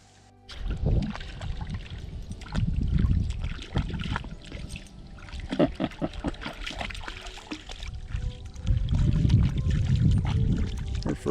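A small boat glides through calm water on its first outing of the year, with soft rhythmic paddle splashes and trickling drips that swell and fade in bursts, close by and moderately loud, with no talking.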